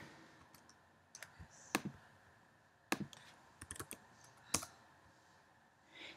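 Quiet, close computer keyboard typing into Xcode: irregular clusters of sharp key clicks with short pauses between them.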